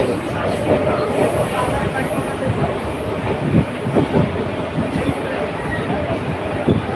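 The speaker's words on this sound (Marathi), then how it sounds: "निघाली ट्रेन" A train rumbles along steadily with rhythmic clacking of wheels over rail joints, loud and close, with faint voices underneath.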